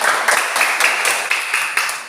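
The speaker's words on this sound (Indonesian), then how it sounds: "Tepuk tangan untuk kelompok 4 dulu." Applause from a classroom of students for a group, a dense, even clatter of many hands clapping, close and loud throughout, with no voices over it.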